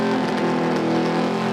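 A Street Eliminator drag racing car at the 2016 Summer Nationals roars loud and close in one continuous, heavily layered engine blast, steady throughout with no voices.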